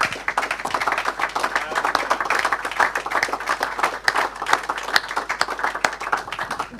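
A church congregation clapping and applauding the Lord at a French-language service: a steady, dense patter of many hands clapping together for several seconds, close and lively, with a few voices faintly underneath.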